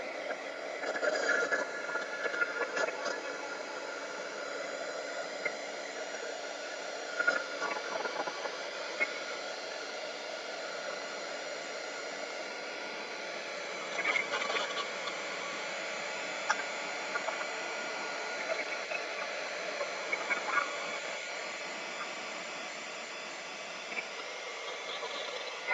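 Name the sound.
hair dryer drying a craft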